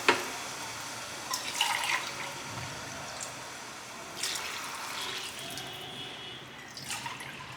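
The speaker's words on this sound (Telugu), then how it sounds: "రెండున్నర గ్లాసుల నీళ్లు పోసుకుంటాను" Water is poured into a pot of basmati rice, making a soft, faint trickle with light splashes and drips close by. There is no talking.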